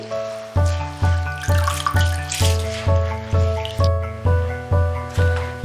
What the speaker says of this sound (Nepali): अब यसको पानी तर्याउँछु म पहिला